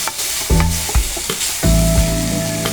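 Onions and garlic sauté in a little oil for chicken pastil, a steady close sizzle broken by several sharp clanks and scrapes of a utensil against the pan, with no talking.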